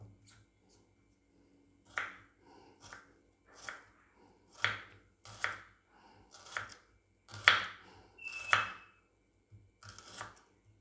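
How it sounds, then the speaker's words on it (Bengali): A knife chops vegetables for an egg and vegetable poach, soft irregular cutting taps spaced a second or so apart, fairly quiet and close, with no talk. "এভাবে সবগুলোকে তো আমি ভালো করে কেটে নেব"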